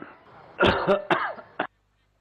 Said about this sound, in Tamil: இன்னைக்கு என்னன்னு தெரியல, ரொம்ப இருமல் வந்துகிட்டே இருக்கு